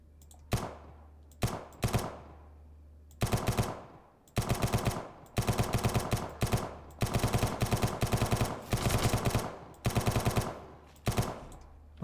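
Automatic fire from a drum-magazine weapon in the video game SurrounDead, loud close bursts of rapid shots separated by short pauses, with single shots at the start, no voices.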